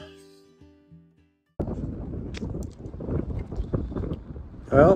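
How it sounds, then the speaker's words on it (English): Wind whipping through a high-elevation canyon at a mountain reservoir, a loud continuous gusting rumble buffeting the microphone after a quiet opening, steady for several seconds. "the wind is whipping through here, this canyon"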